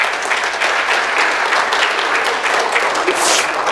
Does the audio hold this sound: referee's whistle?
no